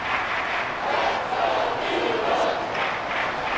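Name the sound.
stadium crowd roaring in Madden NFL 24 video game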